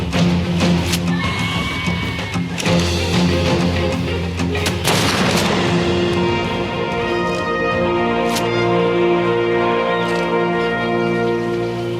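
Gunfire in the video game Ark Survival Evolved, a series of sharp shots and booming reports over layered game ambience, loud and close, with scattered blasts spread across the stretch.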